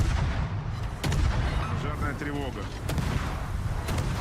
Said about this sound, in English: I dodged the Musashi shells from all the way downtown